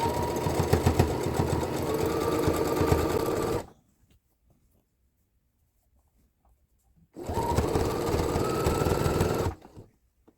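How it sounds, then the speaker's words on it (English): A sewing machine runs stitching T-shirt fabric in two loud, steady bursts of rapid mechanical whirring, separated by a few seconds of near silence. "let's go ahead and start sewing right here, right in between these two lines"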